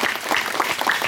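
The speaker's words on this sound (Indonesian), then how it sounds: "Tepuk tangan dulu." An audience at a youth meditation gathering claps in a dense, loud burst that continues throughout without pause, with no talking.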